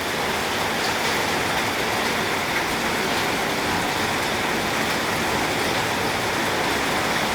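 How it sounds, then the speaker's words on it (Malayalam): Heavy summer rain pours down in a dense, unbroken roar. It sounds loud and close, with no voices. "എന്തൊരു ഭംഗിയല്ലേ മഴ"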